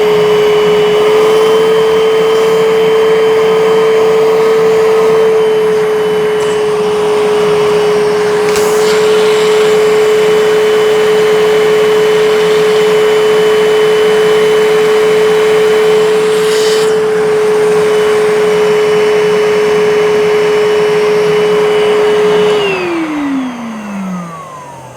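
Bissell SpotBot pet spot cleaner running with its hose tool, a loud steady motor whine with a constant pitched hum throughout, close and continuous, winding down in pitch at the end.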